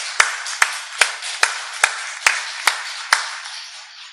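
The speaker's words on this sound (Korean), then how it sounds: "다 같이 박수하겠습니다." A church congregation at a Sunday worship service claps in unison: eight sharp, evenly spaced claps at a steady beat, loud and close with nothing else heard between them.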